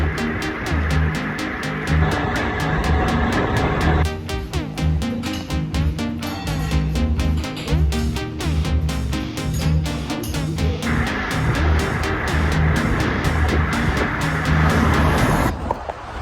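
Car driving along a road, heard from inside as a steady loud rumble with road noise and a shifting, pulsing engine tone throughout.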